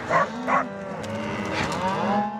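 Cattle moo loudly and close, a low drawn-out lowing that swells and holds, with a couple of short sharper calls at the start.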